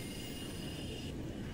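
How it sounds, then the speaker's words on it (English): Train passing in Mirror's Edge: a loud, steady rail rumble with a high metallic wheel squeal running through it, the squeal cutting off near the end, no speech. "There's a train coming behind you."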